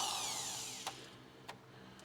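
A drill bit grinds into a spot weld on a car body seam during a crew cab Charger restoration, giving a steady high whine that slowly drops in pitch, with two brief sharp catches near the end.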